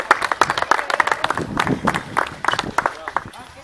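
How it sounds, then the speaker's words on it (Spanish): Scattered clapping and cheering from a small audience at a circus fire act, with claps in uneven bursts mixed with voices and shouts throughout. "¡Aplausos!"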